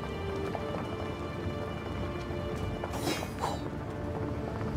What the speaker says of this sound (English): So let me start with making it rain up here. Water rain down.